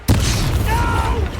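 A spell blast booms in the Hogwarts Legacy video game, a sudden loud burst that swells into a dense, rumbling roar with a brief whooshing shimmer trailing through it.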